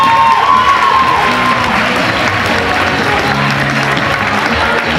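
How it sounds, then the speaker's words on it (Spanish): An audience at a contest's jury selection round breaks into loud, sustained applause, with scattered cheers and whoops mixed into the dense clapping for the full stretch. "Aplauso para ellas, por supuesto."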